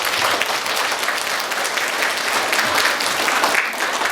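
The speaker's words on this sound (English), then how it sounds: "give yourselves a round of applause" A school assembly crowd of students applauding themselves, a continuous wash of many hands clapping at steady loudness for the whole stretch.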